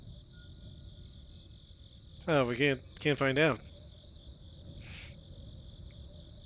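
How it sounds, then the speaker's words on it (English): Crickets chirp in a steady, continuous trill in a nighttime scene of the video game The Darkside Detective, with someone speaking briefly over the top midway through. "There's a chirping sound from over here. Crickets, maybe?"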